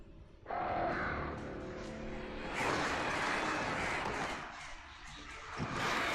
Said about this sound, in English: Die, birds, die.